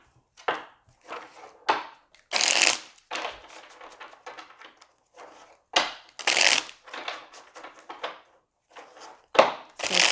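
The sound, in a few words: shuffling oracle cards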